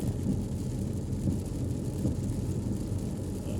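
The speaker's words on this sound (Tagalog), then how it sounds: "Ulan mga karyad." Steady rain with low rumbling thunder on a Sunday in Saudi Arabia, heard from a vehicle stuck near a traffic collision, a dense continuous wash of rainfall with deep rolls underneath and no voices.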